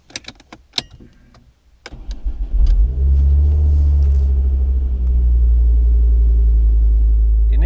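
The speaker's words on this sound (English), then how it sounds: "You just start the engine." A dual-fuel LPG and petrol car cranks briefly after some clicks and handling noises, then catches on petrol and settles into a loud, steady, close idle rumble.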